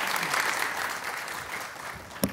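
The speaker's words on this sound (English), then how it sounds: "But we will give you a round of applause. Round of applause, everybody, for Daxon!" Applause from an audience, a steady wash of clapping that fades slightly, with one sharp louder clap near the end.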